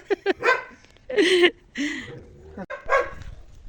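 A farmyard dog barks at a person stepping into the yard, giving a series of sharp, close barks and yips in irregular bursts, some short and clipped, others longer and whining.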